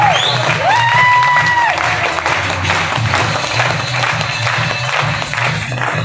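At an Ok Life Care seminar in Bilaspur, Chhattisgarh, an audience claps loudly and steadily with some cheering, a dense, sustained wash of applause, while a voice briefly rises above it.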